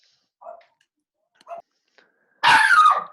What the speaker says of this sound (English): Someone else's dog is barking too.